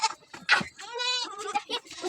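A goat bleats loudly and close by in a long, wavering cry between shorter calls on a Nepali farmstead where goats and kids are penned.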